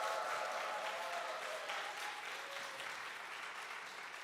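A church congregation at a Friday worship service gives encouraging applause to the youth praise team, sustained and even clapping that fills the hall and fades slightly toward the end.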